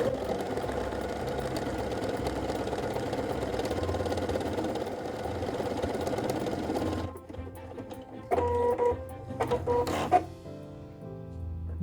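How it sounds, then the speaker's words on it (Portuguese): A PFAFF Creative Ambition 640 sewing machine stitches a buttonhole in a steady, fast mechanical whir for about seven seconds, then stops, followed by a few short clicks and whirs as it finishes the stitch and cuts the thread. "Já encaixei meu tecido e venho costurando através da função Start Stop."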